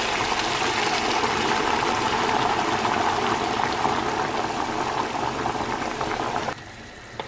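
Chicken stew bubbles at a rolling boil in a pot on the stove, a dense continuous hiss and simmer that stops abruptly near the end.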